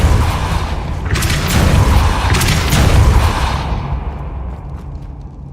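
A Depulso force spell cast in Hogwarts Legacy lands as a loud, broad blast with a rumbling low boom and a whooshing burst, then fades over several seconds.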